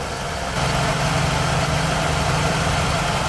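Vehicle drivetrain running with spinning transmission and transfer case parts, a steady close mechanical hum and drone that grows slightly louder after a moment, continuous with no talking.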